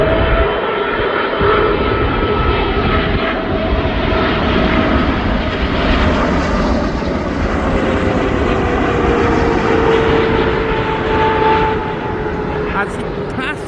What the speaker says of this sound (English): And here comes this 777 now.